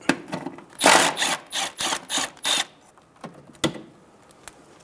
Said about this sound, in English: Using a 10mm socket, remove the bolt for the ABS bracket.